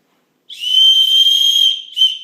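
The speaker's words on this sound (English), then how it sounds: "it's a nice whistle to use, kind of another safety feature that they have on this pack for kids" A safety whistle built into an REI Passage 65 kids' backpack is blown in one sustained, fairly loud shrill blast of about a second and a half, then a short second toot, heard alone.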